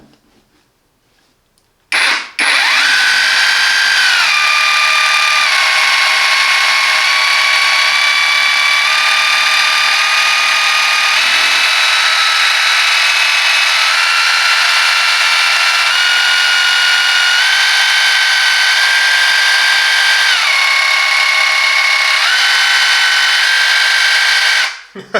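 A Parkside Performance 20V cordless saber saw (PSSAP 20-Li D5) runs at adjusted RPM, a loud steady motor whine that starts abruptly, shifts pitch as the speed changes, and stops at the end.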